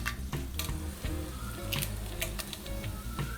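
Dried red chillies and fenugreek seeds sizzling in hot oil in a pan while cooking beef liver fry, a steady crackling fry with sharp pops and occasional stirring scrapes, close and alone without voices.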